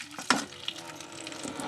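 Chitranna gojju mixture fried in a pan is stirred, a spoon scraping once sharply against the pan over a steady, close sizzle.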